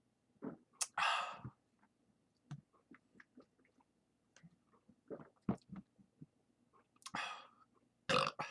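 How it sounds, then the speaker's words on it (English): After a meal, a man lets out several soft burps, quiet and close, mixed with sniffles, breaths and small mouth noises in a hushed room. "my burps aren't exactly on point today"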